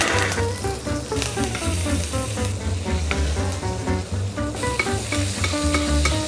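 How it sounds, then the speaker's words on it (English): Confit Welsh lamb belly crisping alongside a lamb fillet roasting in a pan, a steady sizzle running beneath louder rhythmic background music for the whole stretch. "The belly's been confit, and I'm just going to crisp that up and just simply roast the fillet."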